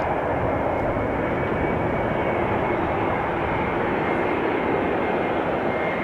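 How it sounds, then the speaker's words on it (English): Passenger jet flight 1444 from Paris Charles de Gaulle, an aircraft about 14 years old, arrives at Amsterdam Schiphol with a loud, steady roar of engines that stays constant throughout. "flight 1444, arriving from Paris, Charles de Gaulle, 40 minutes on the way"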